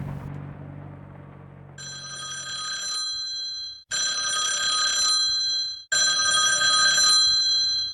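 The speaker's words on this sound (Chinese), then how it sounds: "连面医生馆电话响三声" An old-style telephone bell rings three times in a clinic, each long electric trill split by a short gap, loud and close with no talk, following a low rumble at the start.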